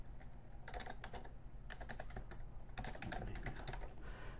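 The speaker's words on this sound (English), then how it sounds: "I'm going to type in an email address for him" An email address is typed on a computer keyboard in a steady flurry of soft key clicks, with brief pauses between bursts over a constant low background hum.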